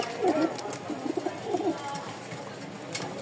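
Racing pigeons kept for sale in Mirpur-1, Dhaka, give a few soft, low coos in the first half and a brief later burst, faint against steady background noise.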